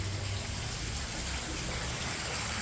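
Water from a borewell gushes into a sump tank, a steady, full rushing and splashing that stays loud and even throughout with no voices.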